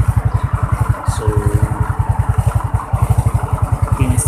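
A Yamaha Mio motorcycle engine putters close and loud in a fast, even pulsing rhythm, holding a steady idle-like beat with brief dips throughout.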